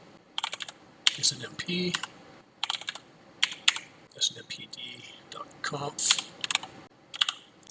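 Computer keyboard being typed on in quick irregular bursts of clicks while someone talks quietly over the keystrokes.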